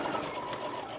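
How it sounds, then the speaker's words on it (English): A sewing machine stitches a small tote bag in one brief, continuous, close motor-driven run. "I'm just gonna sew this up."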